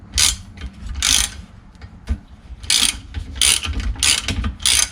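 A ratchet tightens a bolt on a Can-Am X3 door, clicking in close, loud bursts of rapid pawl ticks, several strokes in uneven rhythm with short pauses between.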